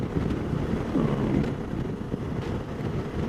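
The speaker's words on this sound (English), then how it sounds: "I'm just surprised how windy it is." Strong wind buffets the microphone while riding a Suzuki V-Strom 650 motorcycle on a highway, in a constant low, roaring rumble with gusty surges.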